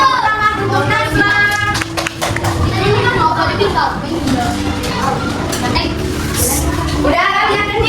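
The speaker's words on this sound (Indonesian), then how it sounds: "tepuk tangan untuk Najwa" A classroom of pupils claps for a pupil named Najwa, with a burst of fast, busy applause near and loud. Children's voices and talk run along beneath it.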